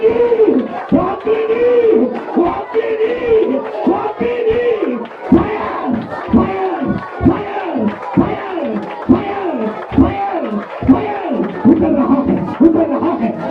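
At a Hindi Christian prayer meeting, a congregation claps in quick repeated bursts while voices shout and call out loudly together over the clapping.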